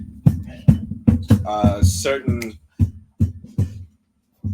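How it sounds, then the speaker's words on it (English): A 90-pound dog's tail thumps against a table in a run of sharp, rhythmic knocks, close by, with a short stretch of a person talking in the middle. "That's his tail hitting the table."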